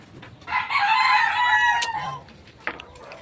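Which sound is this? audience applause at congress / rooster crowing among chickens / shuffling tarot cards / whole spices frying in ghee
rooster crowing among chickens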